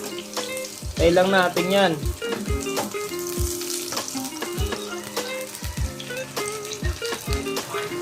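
Onions hit hot oil in a pan for tofu and pork, crackling in a dense, steady sizzle over scraping and metallic clanks from stirring, while a voice speaks briefly.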